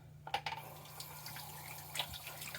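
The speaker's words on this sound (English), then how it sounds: "I'm just rinsing off right now." Water running from a faucet into a sink while someone rinses off after a shave, a faint, steady splashing stream with a few soft splashes near the start.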